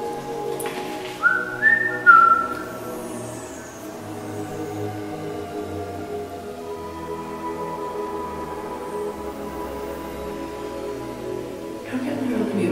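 A person whistles a few short rising notes inside the women's cell block of Cornwall Gaol, then the space settles into a quiet hum with faint voices.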